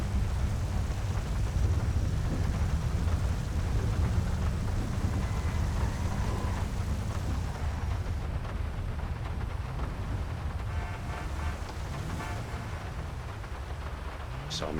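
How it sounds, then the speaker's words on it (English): Virtual lightning storm in GTA V, with a steady dense wash of rain and low rumbling thunder rolling throughout, loud and continuous. "Get a better view of the lightning storm."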